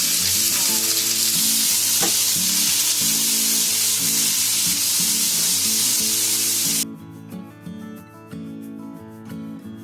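Paneer frying in ghee gives a loud, continuous hiss and crackle that cuts off abruptly partway through, leaving quieter background music.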